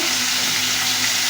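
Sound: vegetables frying in hot oil

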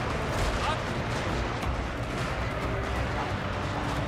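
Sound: gunfire from troops in video game Total War Shogun 2

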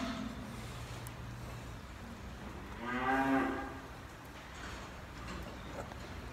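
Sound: cow mooing on a farm

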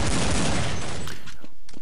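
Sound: gunfire in video game Counter-Strike 1.6

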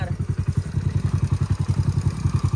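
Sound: motorcycle engine running

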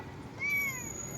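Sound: cat meowing

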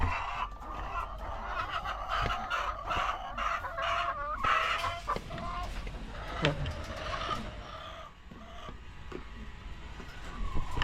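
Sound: chickens clucking and rooster crowing

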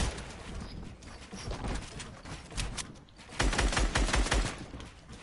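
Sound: gunshots in the video game Fortnite

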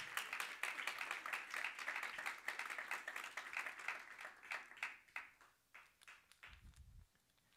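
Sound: congregation clapping

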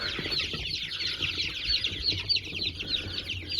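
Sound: chick fluttering and clucking, trying to get out

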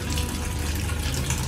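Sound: water running into LG top load washing machine

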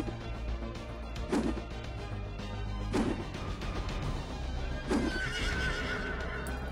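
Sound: horse neighing and galloping in video game Legend of Maratha Warriors

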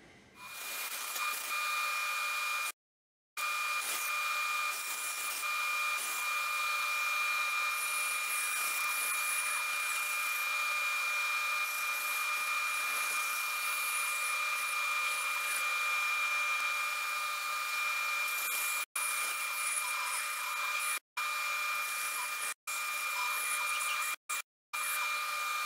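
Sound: power tool cutting out brass pieces

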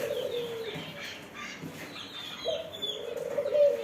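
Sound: dove (ducky bird) calling in a poultry shop

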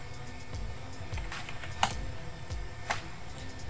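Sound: typing a command on a computer keyboard

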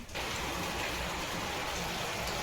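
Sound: heavy rain falling

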